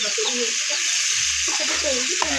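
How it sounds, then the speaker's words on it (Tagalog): Crab sautéed in margarine, a steady close sizzle of frying filling the whole moment, with someone talking over it. "Yung alimasa guys, gigisa ko siya sa star margarine."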